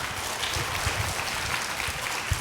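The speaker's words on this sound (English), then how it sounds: "Big round of applause for Simon Heather" A conference audience at a user experience design session gives a speaker a steady, moderately loud round of applause, continuous and even across the short stretch.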